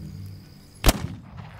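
A single sharp gunshot from the survival video game This Land is My Land cracks out loud and close, a brief burst that dies off quickly over quiet low ambient game sound.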